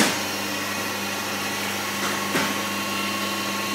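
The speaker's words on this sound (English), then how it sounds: "I'm going to move on to the small wheel here now." A small crystal cutting wheel grinds an olive cut into hand-cut crystal glass, a steady close whirring drone with a faint hum underneath and a couple of brief scraping surges as the glass is pressed to the wheel.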